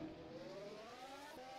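A Honda racing engine on a development formula car in rFactor 2 hums past at a distance, a faint rising whine heard from outside the car and alone.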